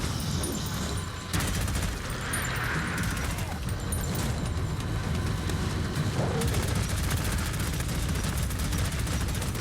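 Minigun fire in the shooter Prodeus, a dense continuous loud roar of rapid shots that kicks in sharply after a brief lull and keeps grinding on without a break.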